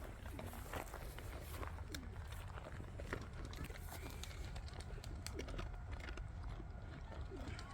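Pigeons cooing repeatedly near a forest spot where stray dogs are being fed on a hot summer day, soft rhythmic calls over a constant low rumble of background noise, with no talk.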